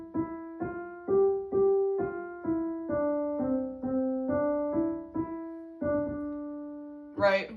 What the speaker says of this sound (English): If I play Ode to Joy with my right hand